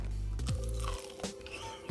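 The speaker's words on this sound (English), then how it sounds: "You can hear the crunch." Teeth crunch close up into a crispy deep-fried chicken drumstick with natural skin and no breading, coated in butter garlic parmesan, making a couple of sharp crackling bites followed by chewing.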